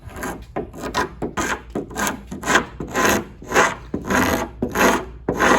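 A hand scraper pulls the finish off a piece of solid wood furniture in a steady run of rasping strokes, roughly one or two per second, close and fairly loud with no talking.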